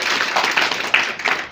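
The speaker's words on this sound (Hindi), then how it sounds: "जोरदार तालियों के साथ।" Audience applause at a village panchayat gathering for International Yoga Day, a dense run of many hands clapping with a few louder claps standing out, steady and moderately loud throughout.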